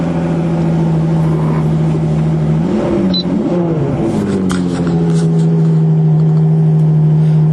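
A 2021 Ferrari 812 GTS engine under way with the top open: a loud, steady high-pitched drone with a brief surge in revs midway, then settling back to a constant pitch.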